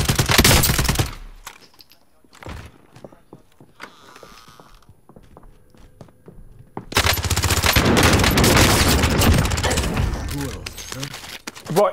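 Automatic gunfire in Call of Duty Modern Warfare Warzone, loud bursts of rapid shots at the start and again in a long heavy volley later, with quieter footsteps and game sounds between and players talking.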